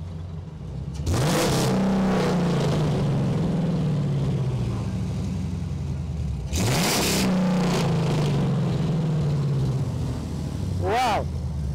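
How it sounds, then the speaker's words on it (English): A 1968 Dodge Charger R/T body on a 2006 chassis revs hard twice, each blip climbing sharply then falling back to a loud, rumbling idle, with a final short rev near the end. "let me hear the engine."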